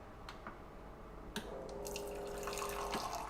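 Hot water runs from a kitchen tap in a steady low hiss, with a few brief clinks and drips on top, close by and fairly quiet.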